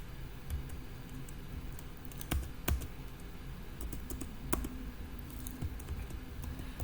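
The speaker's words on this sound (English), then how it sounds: "I can add new items using the keyboard" Quick irregular clicking of keys on a computer keyboard, a few sharper taps standing out, with no voices present.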